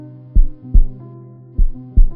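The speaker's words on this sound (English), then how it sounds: "even perceiving his own heartbeat" Heartbeat sound effect: four deep, booming thumps in two close pairs, loud over a steady low hum, with no voices.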